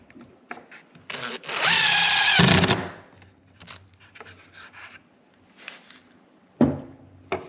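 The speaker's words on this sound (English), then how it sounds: "I already started routing without putting these in." Router cutting a hinge routing template for SOSS 218 hidden door hinges, a loud whining burst of about a second and a half, followed by scattered knocks and shuffling sounds.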